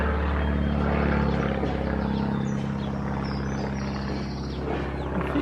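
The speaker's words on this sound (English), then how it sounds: "A few planes flying around." Small propeller planes flying overhead in the Cornish countryside near St Mawgan, a constant low rumbling drone that stays fairly steady and distant over outdoor ambience.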